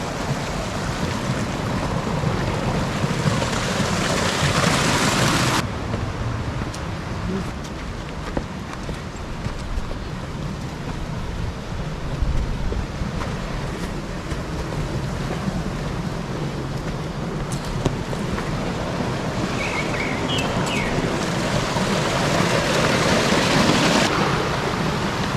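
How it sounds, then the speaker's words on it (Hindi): Water of the Ganga flowing down from Gaurikund on a mountain trek, a steady rushing roar close by that fills the whole stretch evenly, with clopping horse hooves and footsteps passing. "ये गंगा जी का पानी है"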